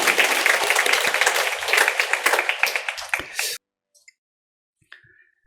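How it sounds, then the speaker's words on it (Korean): A church congregation claps to welcome an engaged couple during a Sunday service, a few seconds of lively applause that breaks off abruptly, followed by quiet with a couple of faint taps. "우리 이분들 위해서 한번 박수로 환영하겠습니다."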